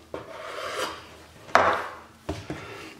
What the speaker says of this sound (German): dann gehen wir einfach mit dem Messer hin und schneiden es einmal in der Mitte durch